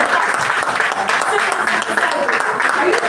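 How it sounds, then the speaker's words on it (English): Conference audience applauding steadily and loudly for about three seconds, a dense wash of clapping hands with a faint murmur of voices underneath. "And that round of applause that we give them."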